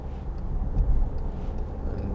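Steady low engine rumble from a 2014 Volkswagen Tiguan 2.0 TDI diesel car driving on the road, swelling slightly midway as it pulls out to overtake, heard from inside the cabin with no talk.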